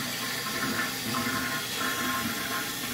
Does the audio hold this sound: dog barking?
no